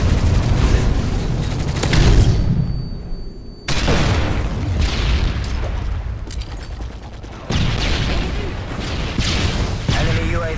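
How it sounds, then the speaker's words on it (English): A Predator missile strike explosion in Modern Warfare 3 on the Seatown map gives a loud close boom. Further booming blasts and gunfire-like bursts follow in the game mix. "Friendly Predator missile inbound."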